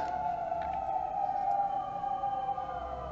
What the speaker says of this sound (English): windows open, that's why you can hear sirens.